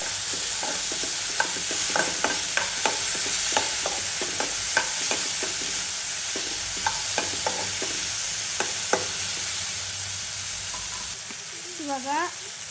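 Tomato fries in oil with a continuous sizzle while a spoon or spatula scrapes and taps the pan in a quick, irregular rhythm, close up and loud, with no talking.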